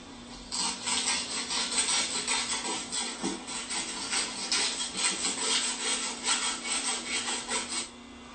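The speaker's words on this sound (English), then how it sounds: "clean everything up a little bit with a piece of sandpaper" Sandpaper rubbing back and forth over the slip ring of a Bosch alternator rotor from a Dodge truck, a steady rhythmic scratchy scrubbing with repeated strokes, close and moderately loud, no talking.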